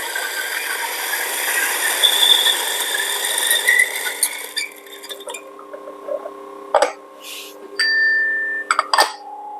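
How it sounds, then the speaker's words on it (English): A Baby EK coffee grinder grinds coffee beans at setting 6, a steady loud whirring buzz for about four seconds, then spinning down into quieter intermittent clicks, knocks and short mechanical bursts. "So right now let me grind."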